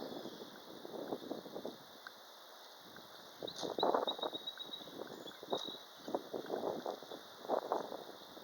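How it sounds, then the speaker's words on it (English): Heavy wind blowing outdoors, coming in uneven rushing gusts that swell and fade, with a steady high-pitched tone running beneath throughout. "The heavy wind."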